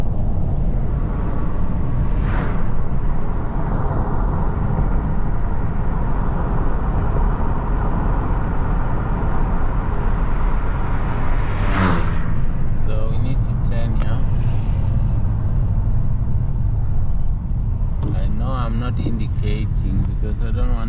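Cars move through rainy Johannesburg traffic, a steady broadband road and wet-tyre wash running throughout with a couple of louder passing swells, while people talk quietly over it.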